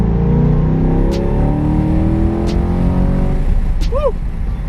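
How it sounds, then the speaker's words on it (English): Wind roars steadily over a C8 Corvette driving on the road with its top off, a loud, dense rush mixed with low engine drone throughout, punctuated by a few brief high chirps. "Hopefully that wind noise isn't too loud, people."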